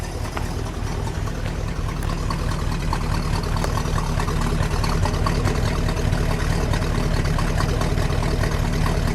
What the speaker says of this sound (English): Oh, that's a nice rumble, Michael.